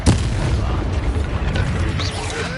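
An Expelliarmus spell cast in Hogwarts Legacy on PS5 lands with a loud booming burst up front, followed by a rumbling magical blast that fades through the rest of the moment.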